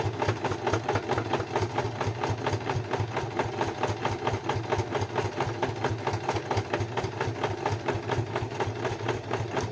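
A sewing machine stitches a zigzag seam on a beginner's fabric oven mitt, with a fast, even, mechanical chatter that runs close and steady for about ten seconds and has no voices over it.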